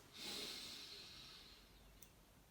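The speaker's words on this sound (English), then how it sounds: "Breathing in for 4" A slow, deep inhalation during a guided breathing exercise, a soft airy rush that swells quickly and tapers over about two seconds, close and alone with no talking.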